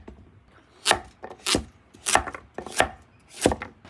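A curved-blade Japanese kitchen knife from a traditional knife workshop mincing food on a cutting board, six evenly spaced firm chops close up with no talk.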